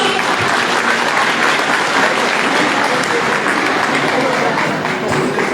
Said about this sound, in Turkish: sahneden kuvvetli bir alkışla uğurluyorum